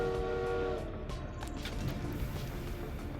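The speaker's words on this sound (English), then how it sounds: "So we have 2 coal trains moving coal into the storage and 1 bringing it into the city." Coal trains run on the rail lines of a city-building video game, giving a steady low rumble with a brief horn-like tone at the start. No voices are heard.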